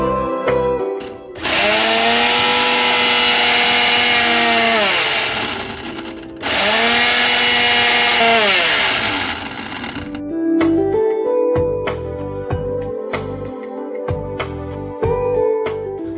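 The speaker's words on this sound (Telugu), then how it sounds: "ఇప్పుడు దీన్ని మనం మిక్సీ పట్టేసుకోవాలి" A mixie grinder whirs loudly while grinding ingredients with salt, running in two long bursts with a rising and falling motor whine, then stopping to quieter clatter and handling sounds.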